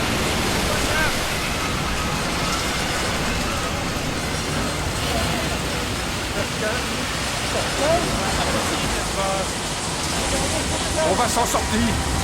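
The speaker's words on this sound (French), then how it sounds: "Les vagues sont trop fortes!" Loud, continuous roar of crashing surf and churning water, broad and turbulent throughout, with faint voices buried underneath.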